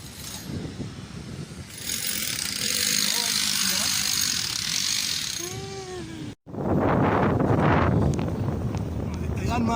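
Strong wind buffets the microphone on a mountain top in Benguet, a loud rushing roar with gusts that swell and briefly cut out, while a faint engine hum and a person talking sit underneath.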